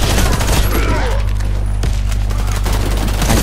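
Dense, loud gunfire in the video game Warface, with shotgun blasts piling into a continuous barrage that fills the whole stretch and leaves no quiet gaps.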